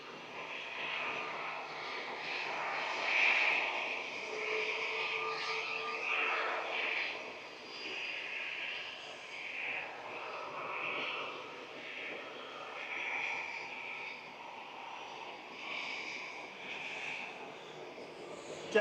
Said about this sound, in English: Jet2 A321neo here, heading to Heraklion on the Greek island of Crete with flight 905.